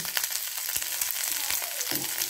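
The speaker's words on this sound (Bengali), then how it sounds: "ফুলকপির পাতাগুলো এগুলো দিয়ে এবার এগুলো একটু নেড়ে চেড়ে নেবেন" Cauliflower leaves sizzle and crackle in hot oil in a pan, with scattered scraping clicks as they are stirred and tossed; steady close frying noise throughout with no voices.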